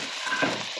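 Chopped onions go into hot oil in a pan for a demi-glace steak sauce, producing a steady close sizzle with light stirring scrapes throughout the short moment.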